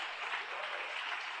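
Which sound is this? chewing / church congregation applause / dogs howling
church congregation applause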